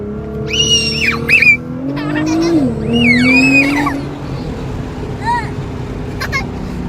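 A Nissan GTR accelerates hard in race mode, its engine note rising and falling through sweeping gear changes with tire squeal, close and loud beneath excited voices of people riding along.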